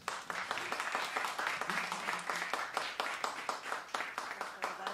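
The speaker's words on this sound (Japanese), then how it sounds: "拍手" Applause from a small audience at a Fishmans New Year event, with quick, uneven claps at moderate loudness and some voices mixed in.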